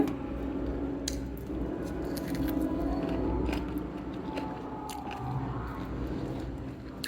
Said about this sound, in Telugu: ముక్క బాగా పచ్చిగా ఉంది, కరకరలాడుతుంది.